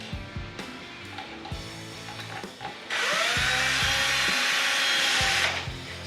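A screw is driven into an Ibanez RG guitar neck with a power drill, which whirs steadily and loudly for a few seconds after a stretch of lighter clicks and handling knocks, all close by.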